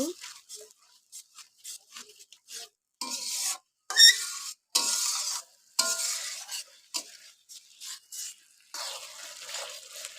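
Masala for rohu fish curry being stirred and fried in a pan, intermittent scraping and rasping strokes with bursts of sizzle, close, in uneven bursts separated by quiet gaps.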